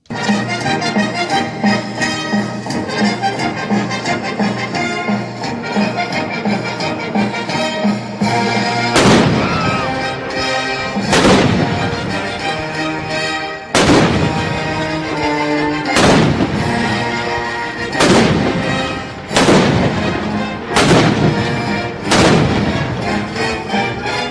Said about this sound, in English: I think this calls for a little celebratory 1812 overture